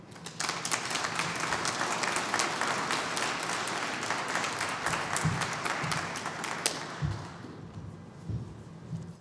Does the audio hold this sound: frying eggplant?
no